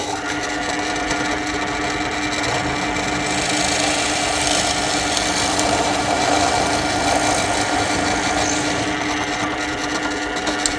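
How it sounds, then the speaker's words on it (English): A drill bores a series of holes into wooden boards for a mirror frame, a continuous whirring grind with a raspy cutting texture at close range, holding fairly steady and swelling slightly midway, with no talking. "just going to drill these 8 holes"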